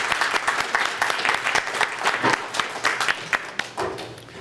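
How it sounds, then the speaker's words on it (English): Audience at a school Veterans Day program applauds veterans in attendance, a sustained wash of many hands clapping at moderate volume, steady and unbroken across the room. "how about a round of applause for all our veterans in attendance today?"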